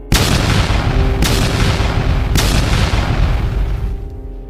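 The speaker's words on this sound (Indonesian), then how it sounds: "Namun ledakan terjadi lagi" Repeated deep explosion booms rumble through a horror narration, three heavy blasts landing about a second apart over a dense, continuous roar that fades slightly at the end.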